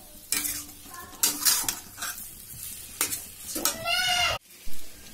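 Urad dal kachori stuffing is stirred in a pan with a spoon, giving loud, close scraping strokes at an uneven rhythm over a soft sizzle.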